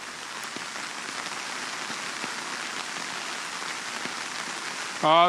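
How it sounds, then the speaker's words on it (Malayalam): Heavy rain pours down across Ernakulam district in Kerala, a dense, steady hiss of rain striking surfaces that holds evenly loud throughout with no talking, and a brief tonal sound enters right at the very end. "ശക്തമായ മഴയാണ് എറണാകുളം ജില്ലയിൽ ആകമാനമുള്ളത്"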